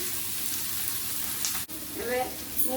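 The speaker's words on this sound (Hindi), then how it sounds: "1 टेबल स्पून हल्दी ऐड कर भल भाव फ्राए करदे" Turmeric frying in a pan along with chopped capsicum and salt for a semolina upma and potato dum dish, a steady loud sizzle throughout with a brief dropout and some stirring scrapes toward the end.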